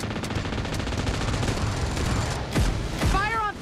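Rapid bursts of gunfire from a PUBG Mobile match, continuous and loud, with a few sharper blasts near the end, over game sounds and a voice talking.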